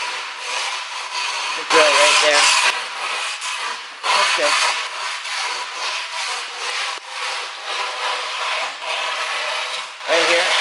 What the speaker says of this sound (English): it's the perfect time to scrape off any highs or lows